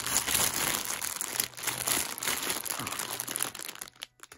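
Tape and cardboard packaging on a box holding a Peach plush being pulled open, giving loud, close crinkling and crunching that fades out at the end.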